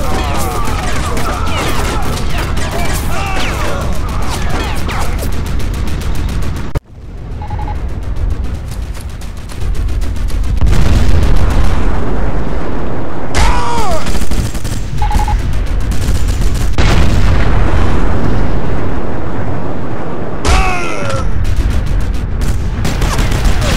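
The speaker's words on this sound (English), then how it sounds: "The Russians are being pinned down by that AA gun's fire." Anti-aircraft gun fire in the Sniper Elite video game: loud, sustained bursts of rapid shots and booms that run nearly continuously, broken by a brief drop before the barrage resumes.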